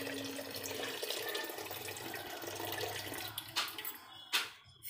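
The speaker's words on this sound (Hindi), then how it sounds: "मैं पानी डाल रही हूँ" Water poured into a container of milk while making a Formula 1 protein shake in a home kitchen, a steady near splashing flow that breaks into a couple of short gurgles and drips toward the end.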